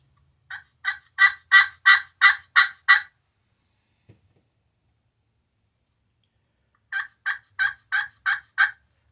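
Two bursts of clear, rhythmic turkey yelps from a glass turkey call, eight notes then six, separated by a pause with a single faint tap.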